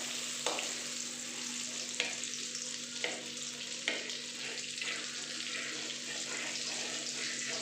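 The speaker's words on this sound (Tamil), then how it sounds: "இப்போ உருகினதுக்கு அப்புறமா நம்ம வெங்காயம் சேர்த்துருக்கோம்" Onions cooking in melted butter in a pan, giving a steady close frying hiss with a few sharp clicks of a spoon against the pan, no voices.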